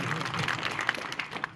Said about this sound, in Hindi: एक बार उनके लिए जोरदार तालियां हो।